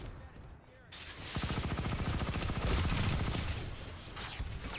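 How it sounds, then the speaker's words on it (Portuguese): Fast automatic hip-fire from a laser-sighted weapon in the online shooter Planetside 2, a rapid rattling stream of shots lasting several seconds after a short quiet start, with a voice faintly underneath. "Eu atirei from the hip, né? Tipo, só assim, sem mirar."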